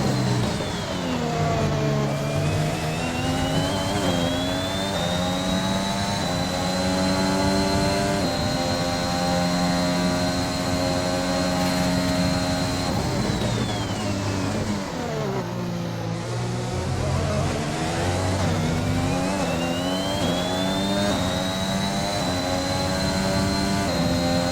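Formula 1 race cars scream around the track in F1 2021, the loud high-pitched engine whine rising and falling through gear changes and revs across a long continuous pass, with no talking.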